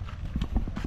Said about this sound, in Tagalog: Merong kabayo